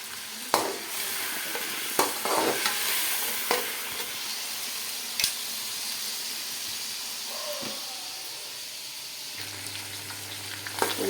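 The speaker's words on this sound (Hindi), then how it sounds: "यहाँ बिस्मिल्लाह करके लहसुन का पेस्ट इसमें डाल देते हैं" Garlic and ginger paste fries and is stirred in a pot with roasting chicken for degi pulao, a steady close sizzle broken by scraping stirs and occasional spoon knocks, with no talking.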